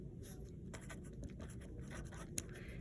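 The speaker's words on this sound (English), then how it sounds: "So underneath the place, I'm going to write San Francisco" A pen scratches quietly across a paper page in short strokes, writing out a city name, close and faint against a low background hum.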